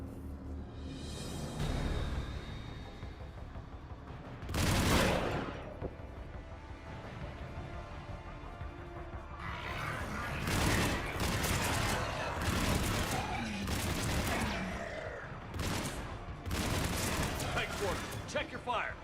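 Gunfire rattles in bursts during a Mass Effect 3 battle, with a sharp volley near five seconds and heavier sustained shooting later, while voices talk over the fighting.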